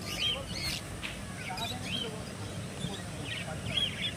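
Pet birds at a Sunday bird market in Shreerampur, where budgerigars and cockatiels are sold, chirp in high, scattered bursts over a steady crowd murmur, with people talking throughout.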